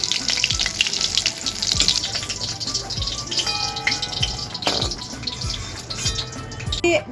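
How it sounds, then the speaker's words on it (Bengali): Hot water pours into a pot of cooked mung dal with mixed vegetables, a loud continuous splashing gush up close that churns steadily with no voices. "এবার আমি ডালের মধ্যে গরম জল দিয়ে দিচ্ছি পরিমাণ মতন"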